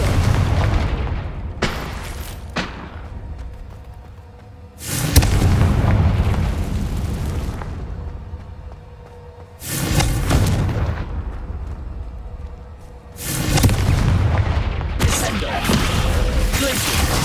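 Several loud Confringo fire-spell blasts in Hogwarts Legacy, each a deep booming explosion with a long rumbling tail, spaced a few seconds apart with quieter gaps between.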